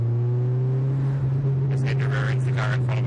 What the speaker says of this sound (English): so you can hear the exhaust sound